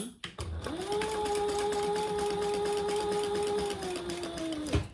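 A sewing machine runs steadily for about four seconds while stitching a full seam allowance along the sides and bottom of a beginner bag, then stops with a soft clunk; no one speaks.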